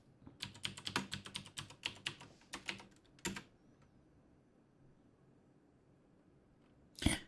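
Quiet keystrokes on a computer keyboard while logging in to an Ubuntu server: a quick burst of uneven taps, then a pause and one sharp knock near the end.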